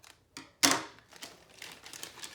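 Plastic packaging around a Lego Power Functions servo motor is cut open, giving a sharp crisp snip followed by faint crinkling and rustling of the wrapper, close and quiet.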